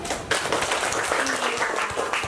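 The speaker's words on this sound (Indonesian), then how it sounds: "Tepuk tangan dulu" A group of schoolchildren in a classroom claps together in a steady burst of applause, busy and uneven, filling the room.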